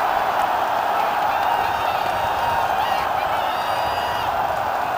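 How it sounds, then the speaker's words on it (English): Football stadium crowd roaring after a goal in a Vietnamese match, a steady loud wash of cheering, whistles and clapping that holds at full volume the whole time with no break. "The crowd explode."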